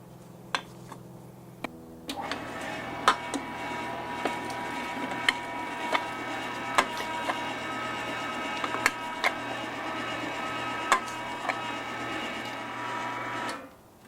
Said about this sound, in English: Now I will run a little bread through here just to get the remainder meat out of the grinder here.